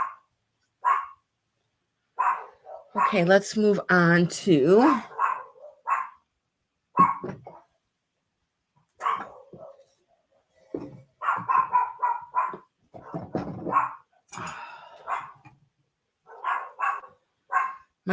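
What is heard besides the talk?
dogs barking outside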